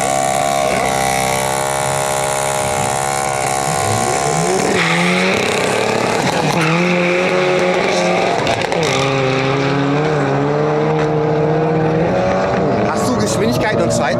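A car runs the quarter mile at a drag strip, its engine roaring loud and close with rising, shifting pitch through the gears, while voices talk over it.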